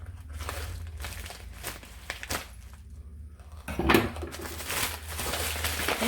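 Cardboard of a bead subscription box being cut open on a mat, with crinkling and scraping noises, a sharper burst of tearing midway, and steady handling rustle afterward.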